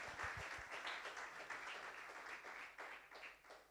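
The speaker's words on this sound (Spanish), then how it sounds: "Dele un aplauso" Church congregation applauding during a sermon, a faint, uneven patter of clapping with swelling and easing waves, quiet and somewhat distant.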